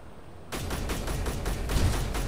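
Rapid marksman rifle fire in the video game Space Engineers starts abruptly and runs as a steady string of loud, evenly spaced shots to the end.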